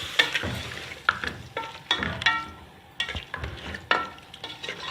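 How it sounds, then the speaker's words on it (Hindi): A haleem mixture is roasted and stirred in a pot with a little added water, giving soft sizzling and irregular scraping stirs, quiet and close with no talk. "अब हमने इसमें थोड़ा सा पानी ऐड करना है, थोड़ी देर इसको भूनना है।"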